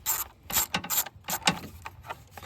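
Ratchet on a long extension backing a 10mm bolt out of a Honda Accord engine: a run of sharp, close metallic clicking bursts in uneven rhythm, with no talking.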